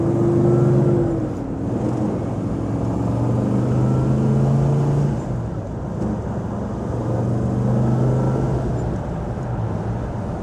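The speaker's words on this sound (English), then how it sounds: "you can tell by the idle that I cammed it up a little bit, and so it's got a nice little lumpy idle to it" A cammed 1964 Pontiac GTO convertible engine idles with a lumpy, loping rhythm, its deep rumble pulsing steadily and close throughout.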